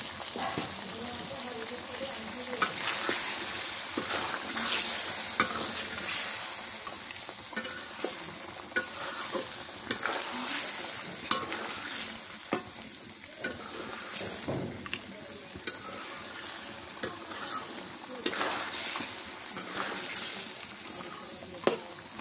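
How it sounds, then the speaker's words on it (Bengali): Cock chicken being stirred and fried in a pan with a little added water, a steady sizzle and hiss running throughout with intermittent scraping stirs, close and moderately loud, no talking. "এটা কোয়াক মুরগি তো ভালো করে কষানো করা লাগবে, একটু পানি দিই, একটু পানি দিয়ে কষানো করে দিই।"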